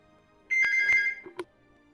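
A telephone ringtone goes off close and clear: a short electronic ringing burst lasting about a second, ending with a brief chirp, against a quiet room.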